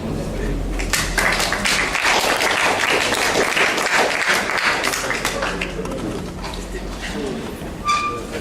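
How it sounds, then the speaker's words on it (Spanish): Applause for a presenter at an academic conference session, a loud sustained crowd clapping over a low rumble, with voices mixed in and thinning toward the end. "Recibamos un fuerte aplauso."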